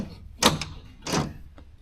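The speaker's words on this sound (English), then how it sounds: "you got the suicide doors" The suicide door of a 1934 Ford opening, heard up close as two brief mechanical clunks with a faint click after, in a quiet space.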